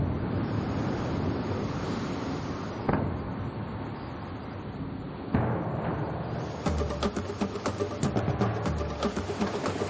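Steady wind rushes and buffets past as a land yacht rolls along, a broad continuous roar with gusts and rattling bumps growing busier toward the end.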